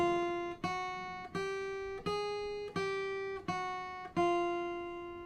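A guitar plays a four-finger exercise one pluck per note, eight clean single notes at an even, unhurried pace, each ringing out and decaying before the next, close and with no voices.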